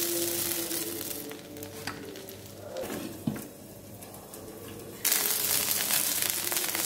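Salem-style bun dosa batter fries in oil on a pan with a steady sizzle. A brief clatter is heard partway through, and then the sizzling swells suddenly louder and crackles near the end.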